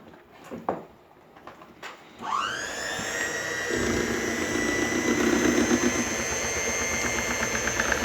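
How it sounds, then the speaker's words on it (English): An electric hand mixer whirs into crumpet batter, a sloppy yeasty mix in a bowl: a few faint knocks first, then the motor spins up to a loud, steady, high whine that holds to the end with a slight churning texture. "And we get out a very noisy mixer."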